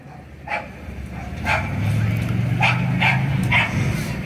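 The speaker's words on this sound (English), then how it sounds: "the dog says get ready" A dog barks about five times in short, sharp bursts at the start of a 5K race with Akron Symphony Orchestra members, over a steady crowd murmur and a low hum.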